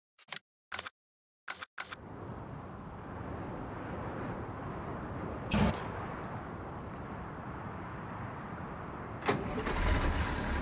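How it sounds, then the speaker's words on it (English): A tractor engine in a farming video game cranks after several sharp clicks, catches and settles into a steady low idle rumble, with a brief clatter midway and a louder rising burst near the end. "This will be a perfect tractor."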